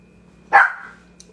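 A puppy gives a single sharp, close bark that tails off quickly, with a faint squeak shortly after and quiet room noise around it.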